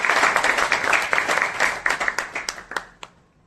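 An audience applauds Harish bhai at an event at Veda Chaubara, Mumbai. The clapping is dense and lively, then thins into a few scattered claps and fades out.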